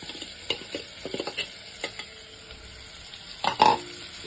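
Boiled, masala-coated mutton fries in hot oil with browned onions: a steady close sizzle broken by scattered spoon scrapes and clinks, ending in a louder burst of stirring and spitting oil.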